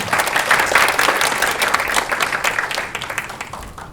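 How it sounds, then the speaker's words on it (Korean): Loud applause from a forum audience welcoming a speaker, a dense wash of many hands clapping that fades gradually toward the end, with no voices over it. "큰 박수로 맞아주시기 바랍니다."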